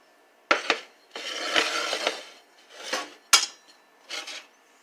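A plate being taken out and handled in a home kitchen: several separate clinks and scrapes of dishware against a surface, close and fairly sharp, spaced with short quiet gaps and no talking.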